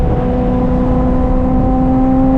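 Ferrari 355 F1 V8 engine holding a steady rev near 4,000 RPM, a loud continuous droning whine with strong harmonics, close up and alone.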